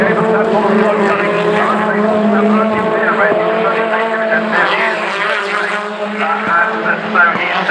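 A BTCC touring race car at Thruxton screams through the chicane, its engine note loud and sustained with slight pitch shifts, while a commentator talks over it.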